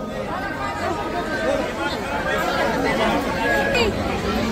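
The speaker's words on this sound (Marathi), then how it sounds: "काय गर्दी मंदिरामध्ये जाण्यासाठी" Dense crowd chatter and babble from people queued to enter Omkareshwar temple, a steady nearby hubbub of many overlapping voices throughout.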